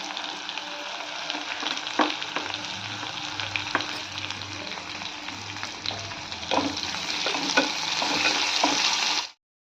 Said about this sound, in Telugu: ఉల్లిపాయ కూడా అలా వేగింది కదా